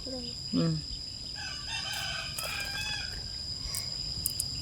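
Close by, a rooster gives a short crow, followed by soft clucking and chirping from chickens over steady outdoor background noise.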